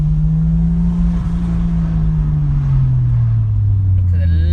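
A Toyota Supra converted from automatic to manual drives along with a steady low engine drone and a slowly falling pitch as it eases off, loud and close from inside the cabin.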